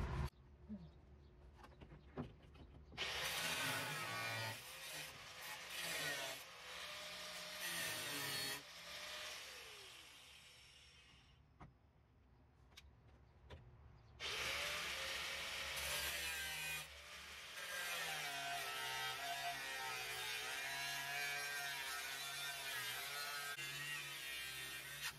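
Power saw cutting out the rusted floor pan of a 1989 Mustang GT, in two loud sustained bursts of harsh grinding with a quieter gap between, then lower rumbling work noise.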